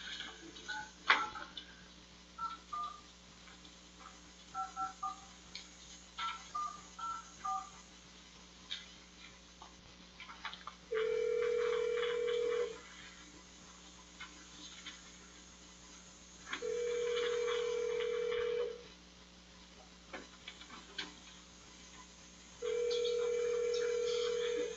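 A telephone call is being placed during a county council meeting, with three sustained ringback tones spaced several seconds apart over faint room ticking and murmur.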